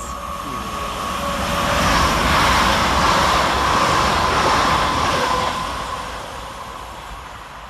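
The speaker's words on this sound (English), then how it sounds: "Flying around the corner 5 minutes late for Transpennine Express is 802-201, working 1 Papa 20 from York to Liverpool Lime Street." A British Rail Class 802 TransPennine Express train, running from York to Liverpool Lime Street, passes through Huyton station. A loud, steady rolling roar with a faint electric whine swells to a peak and then slowly fades.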